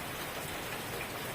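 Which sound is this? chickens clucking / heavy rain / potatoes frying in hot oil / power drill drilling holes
heavy rain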